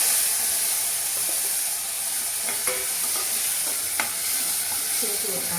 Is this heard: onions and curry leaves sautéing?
yes